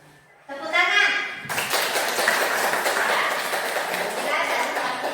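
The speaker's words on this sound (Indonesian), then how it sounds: "Tepuk tangan." Classroom clapping breaks out after a short voice, many hands clapping loudly and quickly at close range, then settling into a dense continuous patter mixed with children's voices.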